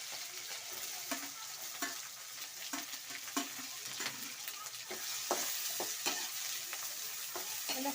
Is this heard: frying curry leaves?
yes